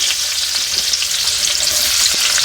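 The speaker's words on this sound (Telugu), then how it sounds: "దీంట్లో ఇప్పుడు ఫస్ట్ ఆనియన్స్ వేసుకోవాలి" Onions frying in hot oil in a pan for a Telugu brinjal and fish curry, giving a steady, loud, close hiss and crackle that carries on without a break and with no talking.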